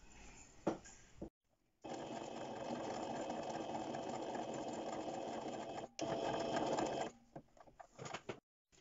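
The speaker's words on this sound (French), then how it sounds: "vous faites un point zigzag pour les fixer" Sewing machine running a zigzag stitch to fix elastic on a duck-bill fabric mask, a close, steady mechanical whirr in two long runs separated by brief stops, with a few clicks and pauses around them.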